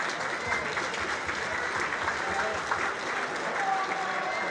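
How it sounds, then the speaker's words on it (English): Players and spectators at an all-Ireland championship final give Mark, the chairman, a round of applause. The clapping is steady and moderately loud throughout, with faint talk mixed in beneath it. "let's give Mark a round of applause there as well"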